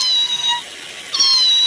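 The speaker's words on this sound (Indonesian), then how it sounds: "Ini ada kucing. Wah, wah, wah, wah, wah. Si kucingnya bunyi teman-teman nih." A toy cat gives two loud, high electronic meows with a short pause between, close and clear with no talking over it.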